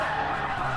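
A 400 hp Nissan S13 drifting on a street course in GT Sport, its tires giving a steady, loud squealing skid that is unbroken over the whole short stretch, with engine noise underneath and no voices.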